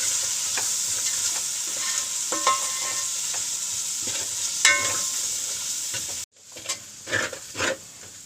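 Ground chili, coriander, turmeric, masala and fennel sizzle steadily in a hot pan for chicken curry while a spoon stirs and scrapes with repeated clinks, with a brief pause before stirring resumes.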